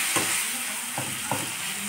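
Green brinjal masala frying in a pan, a close steady sizzle broken by a few soft scraping stirs of a spoon, no talking.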